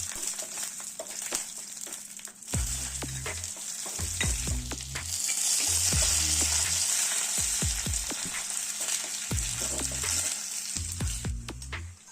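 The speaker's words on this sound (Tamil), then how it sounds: "இப்போ இதுக்கு ஒரு தாளிப்பு கொடுத்துருவோம்" Spices crackle and sizzle in hot oil while tempering mor kuzhambu, a steady bright hiss punctuated by sharp pops and the clink of a spoon stirring the pan.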